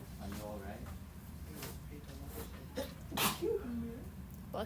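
A single sharp sneeze indoors, brief and moderately loud, amid quiet room noise and faint talking.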